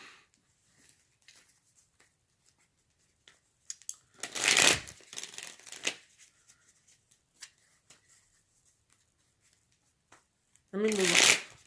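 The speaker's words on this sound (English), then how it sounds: "Let me stop shuffling." Tarot cards are shuffled by hand in close, crisp riffling bursts, one long flurry midway and another at the end, with scattered soft taps and card handling between them in a quiet room.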